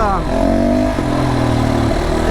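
FSE300R motorcycle engine running under load, a loud, close, throaty drone with steady harmonic tones that shift pitch as revs change.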